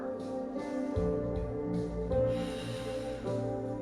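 Sharp breathy exhalations from a Pilates double stretch, repeated several times at a steady rhythm, riding over continuous background music.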